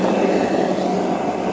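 Twin propeller motors on a dual-motor electric skateboard spin steadily with a continuous airy whir, close and loud, holding an even level throughout.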